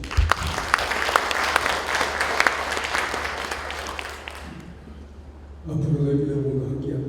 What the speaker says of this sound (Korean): 이용대 회장께 박수 한번 해주십시오.